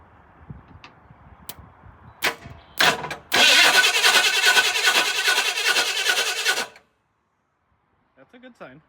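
A Ford Bronco cranks with a few short starter clicks, then turns over in a loud, steady churning whir for a few seconds after a new alternator is fitted, stopping abruptly into near silence.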